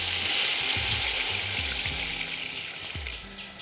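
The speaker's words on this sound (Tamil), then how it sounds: "இப்போ பச்சை தண்ணி கொஞ்சம் விடுவோம்." Water poured into a chicken biryani pot for banana leaf biryani, a steady hissing gush with low bubbling underneath, close and continuous for a few seconds.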